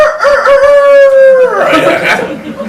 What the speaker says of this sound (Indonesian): Tiba-tiba ayam berkokok.